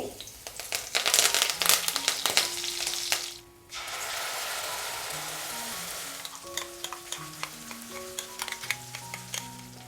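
Chopped garlic and curry leaves hit hot oil with a loud, crackling sizzle and sharp popping bursts from mustard seeds. A brief dip is followed by steady frying with scattered pops and utensil clinks.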